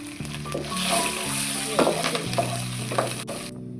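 Curry leaves with green and dried red chillies hit hot oil for a coconut rice tempering, giving a steady close sizzle with a few sharp crackles and spatters, plus a low tonal hum underneath.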